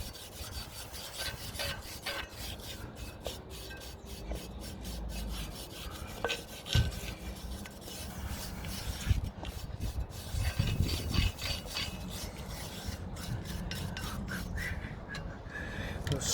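Land Rover brake drum being scrubbed clean of brake dust, giving a continuous quiet rasping and rubbing with occasional light knocks, close up and without talk.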